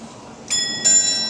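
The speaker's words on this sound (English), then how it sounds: "Father Time will ring the bell once." Two bright metallic bell strikes from an antique automaton clock ring out in quick succession, close and clear, each leaving a sustained ringing tone.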